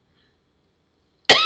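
A single short cough bursts out near the end after near silence, close and fairly loud, brought on by a tickle in the throat.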